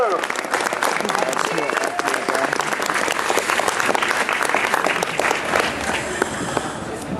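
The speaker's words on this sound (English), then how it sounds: "Please give this constable a huge round of applause" Outdoor protest-camp crowd gives a police constable a loud, close round of applause, dense continuous clapping for several seconds with voices chattering underneath.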